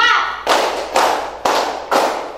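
Four synchronized group claps in an ice-breaking clapping game land in a steady beat, each a loud, sharp burst that rings briefly, following a short spoken bit at the start.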